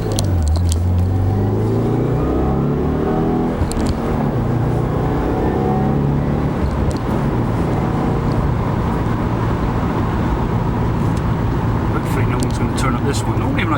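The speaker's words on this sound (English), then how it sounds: "Oh god, there's more vehicles coming." Vehicles rumbling past on a quiet road heard from inside a 2016 Subaru WRX, a steady low drone with passing swells, while someone talks over it.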